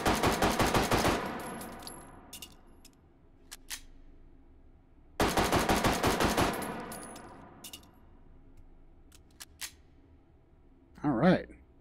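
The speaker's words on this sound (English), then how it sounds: "All right, let's shoot this thing off." A Walther gun in the VR shooting game Hot Dogs, Horseshoes & Hand Grenades fires two rapid full-auto bursts of about a second each, loud and crisp, separated by quiet gaps with a few mechanical clicks. A brief voice follows at the end.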